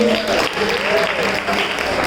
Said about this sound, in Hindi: हाँ, बहुत बढ़िया, जोरदार तालियां हमारे।